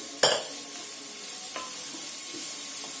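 Rice is stirred into egg and corn fried rice in a pan, opening with a sharp metal clink of the spoon, then a low sizzle with a few faint scrapes.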